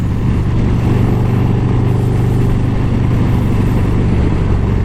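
A 2022 Harley-Davidson Road Glide fitted with a throttle tuner runs with a loud, steady, close engine drone, a continuous low rumble without pauses or voices.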